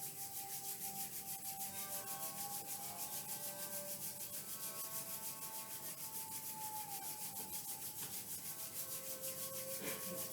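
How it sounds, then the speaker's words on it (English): Palms rubbed together to build warmth and friction during a yoga practice, a steady, soft continuous rubbing that carries on evenly from start to finish over faint background tones, with no talking. "Let's bring our hands together and we'll start to rub the palms."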